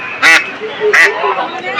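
Ducks at a busy poultry market quack in two loud bursts, one near the start and another about two-thirds of a second later, over a constant murmur of crowd chatter and voices.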